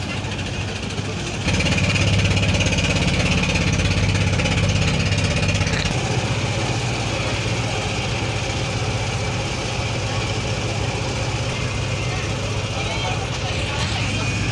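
Steady low diesel drone of a small passenger launch boat's engine, crossing a river ferry ghat in Dhaka, running continuously and fairly close, louder for the first few seconds, with a voice talking over it.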